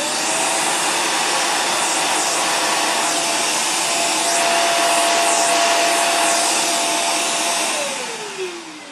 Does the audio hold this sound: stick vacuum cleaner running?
yes